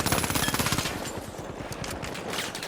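Rapid automatic gunfire from a light weapon in The Finals video game, a loud, fast rattle of closely spaced shots that gives way to more scattered bursts and impacts.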